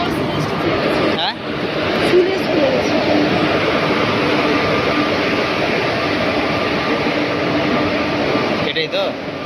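A passenger train runs steadily with a continuous low rumble and rattle throughout, close and fairly loud, with voices talking over it.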